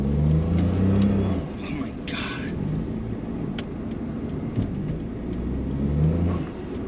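A Daihatsu Mira Gino automatic kei car accelerates through traffic, its small engine droning steadily from inside the cabin with rising and falling revs, while faint passing noises and occasional clicks sit in the background.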